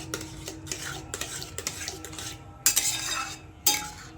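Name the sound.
stirring fresh cream into carrot halwa in a pan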